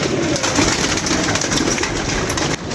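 Pigeons cooing in a loft during bad weather, a steady dense layer of bird sounds running throughout with broadband background noise, no talking.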